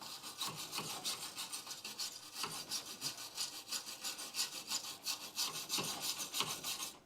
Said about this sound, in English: Where's the wire brush?